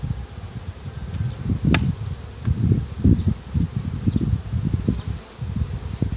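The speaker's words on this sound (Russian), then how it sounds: "Пчелок мы натрусили" Honeybees shaken into a wooden hive box buzz loudly and close, a dense, fluttering hum that swells and fades in uneven bursts, with a sharp knock or tap partway through.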